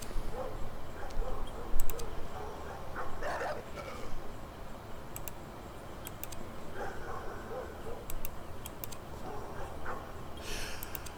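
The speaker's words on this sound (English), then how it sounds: "They might just be feral dogs now that I look at them a little more closely." Feral dogs bark in the video game Bloodstained, with several sharp yips and barks and whimpering scattered across the stretch over game background sounds.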